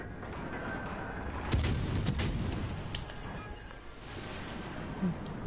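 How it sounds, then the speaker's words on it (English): Battleship California's small-calibre guns firing in a naval video game, a few sharp booms clustered in the middle over a constant rumbling background, with no talk. "Here comes the California shots, but they're quite small caliber guns"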